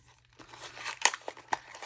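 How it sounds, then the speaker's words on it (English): A plastic Ziploc bag holding small stainless steel balls is opened and handled, giving faint, close crinkling with a few sharper crackles and tearing rustles. "Oh, okay. They're in a plastic bag."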